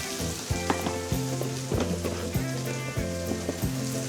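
Garlic frying over a flame for pork and string beans, a steady crackling sizzle like light rain, close and continuous, under a repeating low musical tone that comes in evenly spaced pulses.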